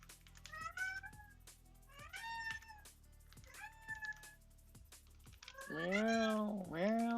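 A cat meows four times near the mic, rising wails that grow louder and longer toward the end, with soft keyboard typing in the background.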